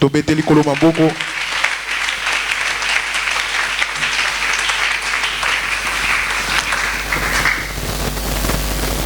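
A church congregation bursts into loud sustained applause and cheering after a short spoken line, the clapping and crowd noise filling the room steadily for several seconds.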